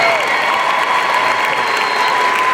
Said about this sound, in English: Let's give him a round of applause for Tadpole.